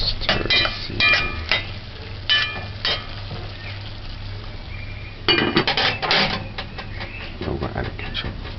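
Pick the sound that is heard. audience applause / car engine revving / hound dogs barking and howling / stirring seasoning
stirring seasoning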